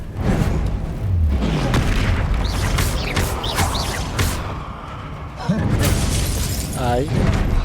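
Confringo blasting spell in the game Hogwarts Legacy, a string of booming impacts and whooshing bursts that recur several times amid busy combat effects, with someone talking over them.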